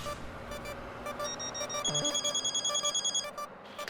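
Phone ringing after a call is placed, a faint electronic ringtone with repeated rapid trilling pulses and a bright melodic line, quiet against soft background music.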